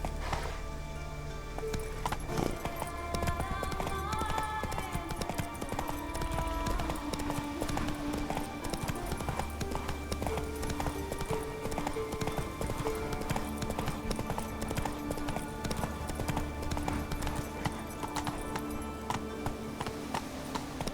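A horse gallops in The Witcher 3, its quick, rhythmic hoofbeats steady and close throughout, set under layered game music and ambience.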